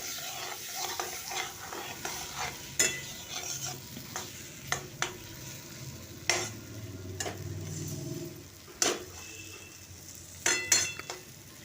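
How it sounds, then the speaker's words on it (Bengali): Dry spice masala for a mushroom curry is fried and stirred in a pan: a continuous close sizzle, broken by irregular scrapes and knocks of a spatula against the metal, and no one speaks. "এরকম শুকনো করে মশলাটা প্রথমে কষিয়ে নিতে হবে"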